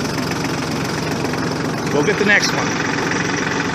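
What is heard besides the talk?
Massey Ferguson 1433 compact tractor engine idling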